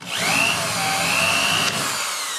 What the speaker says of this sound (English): Drill a hole in a perfectly good boat.